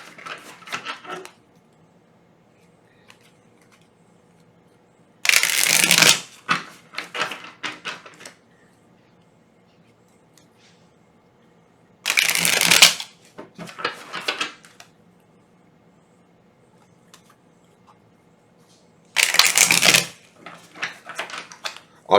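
A deck of tarot cards shuffled in three separate bursts of crisp riffling and slapping, each a couple of seconds long and separated by long near-silent pauses, close and fairly loud with no speech.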